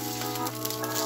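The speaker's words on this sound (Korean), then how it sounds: "아, 지글지글한 소리 들리실까요?" Beef chuck flap steak sizzles in a hot pan with olive oil, a steady close crackling hiss with a constant low hum underneath.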